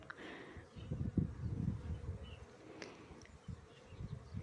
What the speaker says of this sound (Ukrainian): Приємно слухати оцей бджолиний гул.